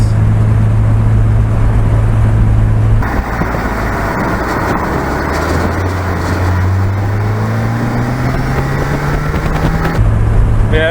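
A car drives along with a loud, steady engine and road rumble, and the engine note rises smoothly as it accelerates through the middle stretch before settling back to a steady cruise.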